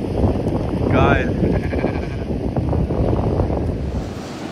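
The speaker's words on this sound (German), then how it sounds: "Hier kommt der Berg hoch, plötzlich so viele Schafe und Ziegen." Sheep and goats on a hillside in Spain let out a clear wavering bleat, heard close by over rough wind buffeting the microphone, while a person talks nearby.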